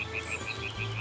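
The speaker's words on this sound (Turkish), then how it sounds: "Bak duyuyor musun? Kurbağalar." Frogs croaking at night, a steady pulsing chorus of repeated calls at moderate distance, with no talk.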